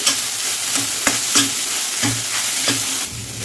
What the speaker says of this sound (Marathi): याला आपण मस्त फ्राय करून घेऊ तुपासोबत